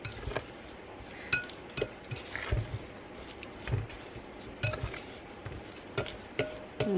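A metal fork clinks repeatedly against a bowl while stirring a butter mixture for monkey bread mini muffins, giving irregular sharp taps scattered over a soft background rustle, close and fairly quiet.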